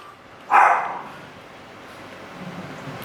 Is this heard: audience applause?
no